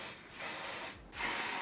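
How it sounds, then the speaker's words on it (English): Bond adhesive sprayed from a can onto a wig during a curly wig install, two close hissing bursts, the second starting louder, with no talking. "I'm gonna take my Bond adhesive and I'm just gonna use that to spray"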